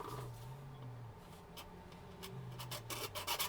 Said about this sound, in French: Je vais venir couper là pour pouvoir être à la bonne hauteur